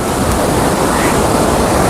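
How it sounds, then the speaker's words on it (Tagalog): Strong wind blowing steadily across a seaside promenade, a loud, constant broadband roar with crashing surf mixed in, close to the microphone for the full two seconds. "Ang lakas ng hangin guys."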